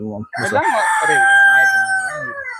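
A rooster crows loudly and close in Jaffna, one long drawn-out call rising and holding before trailing off, after a brief clucking lead-in.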